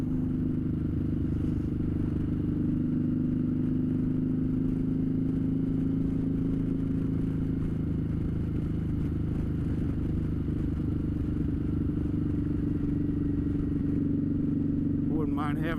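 A cruiser motorcycle, The Bullie, rolls along the road with a steady, smooth low engine drone and constant wind rumble from start to finish.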